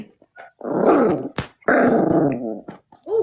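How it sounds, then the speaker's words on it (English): A dog growls in two long rumbling bursts with a short bark-like yelp between them and a brief whimper at the end, close and loud. "Is that your dog?"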